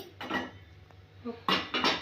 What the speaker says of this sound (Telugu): గిన్నె పెట్టుకోవాలి.